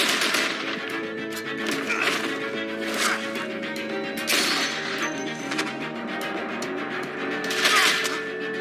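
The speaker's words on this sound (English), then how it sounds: "I hear gunfire" Gunfire in The Walking Dead video game: rapid machine-gun bursts and scattered shots ring out over a tense musical score, repeated loud volleys across the whole stretch with no talk.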